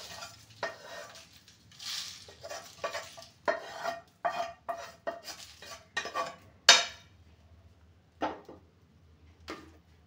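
Coriander seeds roasting in a pan while being stirred, heard as intermittent scraping and metallic clinks of a spoon against the pan, close and clear over a faint background, with no talking.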